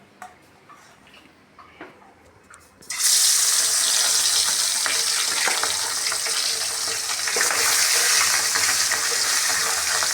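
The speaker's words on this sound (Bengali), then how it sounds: "এখন আমি মাছগুলো ভেজে নিব।" Small chapila river fish drop into hot mustard oil in a wok after a few quiet clinks, setting off a sudden loud, dense sizzle that holds steady to the end.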